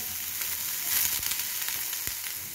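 Yellow capsicum sizzling steadily in hot oil as it is added to the pan for mixed vegetable rice, a continuous bright hiss with a few soft stirring clicks, close and fairly loud, no voices.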